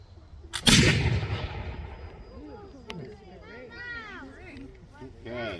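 A musket is fired at a July 4th battlefield demonstration at Fort Necessity, giving one loud, close blast that rolls away into a long echo, followed by crowd chatter and talk.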